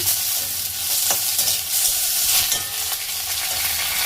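Onions sizzle in hot oil as a spiced semolina upma is cooked. A loud, steady crackle fills the whole stretch, with faint stirring scrapes under it and no talking.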